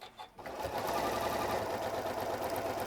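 A Janome M8 sewing machine running its dual feed over thick layers with a long stitch, a few soft handling sounds and then a steady fast mechanical whirr and chatter, close up and uninterrupted.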